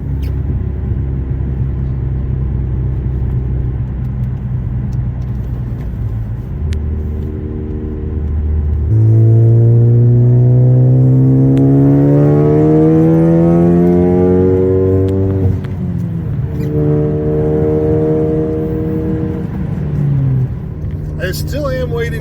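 A Ford Focus ST with a Roush catback exhaust and catless downpipe idles with a deep burble, then revs up sharply, holds a high raspy tone, drops back and revs again, loud and close.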